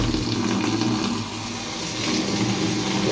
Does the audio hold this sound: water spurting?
yes